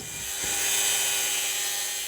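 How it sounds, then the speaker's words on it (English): Old B&M shifter handle from a 1966 Ford Bronco build being cut off with a power tool, a steady high-pitched whining cut that holds close and loud for the whole stretch. "Then cut off the old B&M handle and true up the end"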